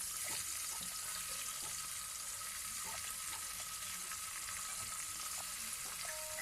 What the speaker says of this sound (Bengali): এরপর পার্শে মাছগুলো গরম তেলের মধ্যে ভেজে নিচ্ছি এক এক করে।